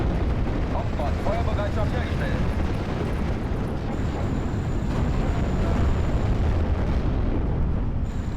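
Dense, rumbling battle noise and repeated heavy gun blasts from a Flak 88 in Steel Division: Normandy 44, a thick continuous barrage with a voice speaking over it.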